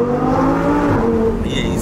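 An Audi R8 with a V10 engine roars and revs steadily, loud and close, with someone talking over the sustained engine note.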